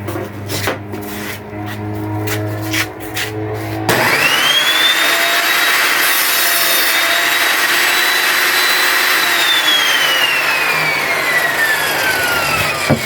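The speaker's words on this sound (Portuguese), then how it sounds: "Esse aqui eu vou cortar ali, 50 centímetros, tá? Vou cortar aqui na serra." An electric power saw spins up and bites into a wooden board being cut to length, a sharp whining rasp that starts abruptly after a lower motor hum and holds loud and steady to the end.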